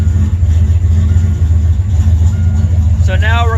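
Turbocharged 351W V8 in a Foxbody Mustang with a 6R80 swap rumbles steadily during a test drive, a deep continuous engine drone throughout; a voice speaks briefly near the end.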